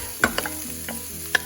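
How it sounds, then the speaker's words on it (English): Onion, celery, garlic and carrot sweating in olive oil in a pan, a low steady sizzle broken by a few sharp scraping stirs of a utensil, close and moderately loud with no talking. "stir that around, and then you want to throw in your onion, celery, garlic,"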